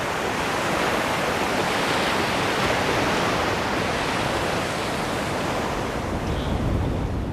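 Ocean waves breaking over a shallow patch in the middle of a bay, a steady broadband wash of surf that holds evenly loud throughout with no voices.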